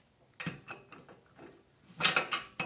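Ratchet wrench turning a long socket on a Moog ball joint, with two short bursts of close, crisp clicking separated by a brief pause; no talking.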